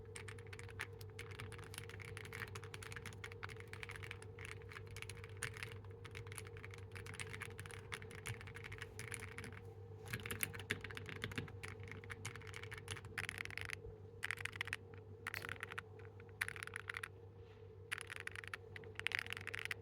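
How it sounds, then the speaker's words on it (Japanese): Continuous rapid clicking of a mechanical keyboard with its stock keycaps, typed steadily and fairly quietly over a low background hum. "もともとついてたキーキャップの音をまず聞いていただければと思います"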